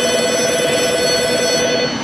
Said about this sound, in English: or that the phone's ringing